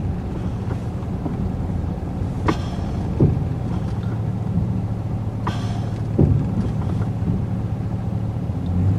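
A truck rumbles steadily while driving, with a few scattered clunks and knocks from underneath. No one speaks.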